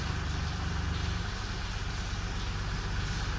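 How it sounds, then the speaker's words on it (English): A VW Polo engine with a turbocharger fault runs steadily during a turbo relearn, giving a continuous low idling hum and drone with a faint higher whine and no talking. "I think I heard the tone of the engine changing"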